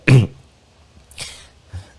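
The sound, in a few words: coughing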